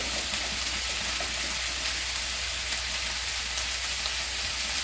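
Potatoes browning in a hot pan give a steady, dense sizzle and frying crackle, constant and fairly loud throughout with no talking.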